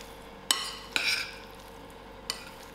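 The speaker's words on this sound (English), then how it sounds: "Give all these ingredients a mix, a good mix." Spicy mackerel fish cake ingredients are stirred together in a bowl, with three sharp clinks of a utensil against the dish and soft scraping between them over a quiet hum.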